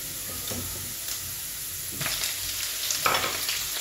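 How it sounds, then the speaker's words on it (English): Liver added to onion frying with seasoning in a pan, sizzling steadily and loudly close by, broken by a few stirring scrapes and louder spits. "Now add this liver to the onion."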